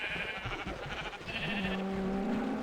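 Sheep in the video game Minecraft bleat in short repeated calls, loud and close over a steady busy background of game sounds.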